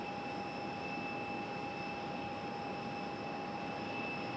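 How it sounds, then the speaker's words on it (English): An MD-11 airliner turns and taxis at an airport, a steady distant jet whine with sustained high tonal notes over a constant rumble, unchanging throughout. "The MD11 will turn around and make its way this way."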